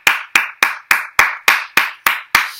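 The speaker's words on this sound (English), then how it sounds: "Let's have a round of applause for our volunteer." Nine sharp, evenly spaced hand claps ring out alone and close, about three per second, rather than the wash of a full crowd, closing a classroom role play in honour of a volunteer.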